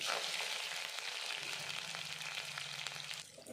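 Green chillies sizzle in hot oil with cumin seeds in a pan, a loud, steady frying crackle that holds evenly throughout, with no voices present.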